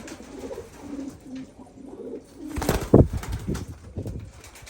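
Pigeons cooing in a loft of Turkish white-tailed red flying pigeons, soft low coos repeating steadily and growing louder toward the end, with a brief flutter of wings nearby.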